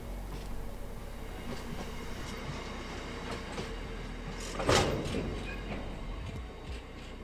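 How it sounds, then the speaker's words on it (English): A train rumbles past on the line, steady wheel noise with rhythmic clicks and a brief louder burst midway, no voices. "I heard a train coming off the Drax branch"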